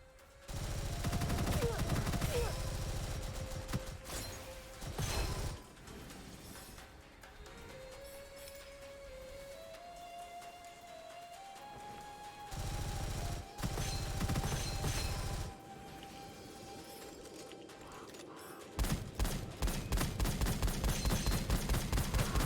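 Gunfire in the shooter game Gunfire Reborn comes in loud, dense bursts of rapid shots separated by quieter stretches, with a rising tonal game sound in between.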